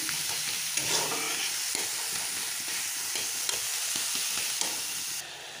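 Lai greens sizzle and crackle steadily in a hot pan, with occasional light stirring scrapes, close up and no voices.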